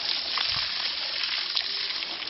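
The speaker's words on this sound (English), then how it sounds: "We put the two together so that the water comes out." Water pouring out of a flotation system used for cleaning silt, a steady broadband rush and splash running continuously at moderate level with no talk.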